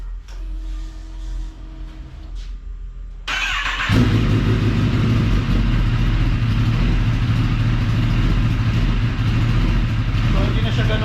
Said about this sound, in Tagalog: So, i-start lang natin yung 10R.